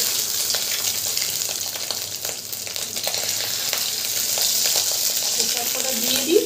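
Fish-roe fritters fry in hot oil in a wok over a low flame, a steady, loud, broad sizzle that runs the whole time with faint stirring clicks and no talk.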